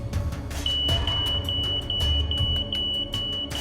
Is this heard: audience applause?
no